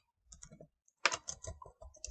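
Someone types a Linux fdisk command to delete a storage partition on a computer keyboard, a short burst of close, crisp key clicks after a brief pause, heard alone with no talking.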